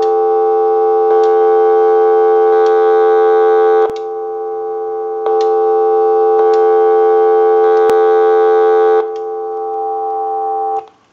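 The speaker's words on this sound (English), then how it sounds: "so we'll go ahead and give you some dial tone" A payphone on a repair bench gives a steady multi-tone dial tone, loud and close, that breaks off briefly twice with small clicks before returning, then cuts off at the end.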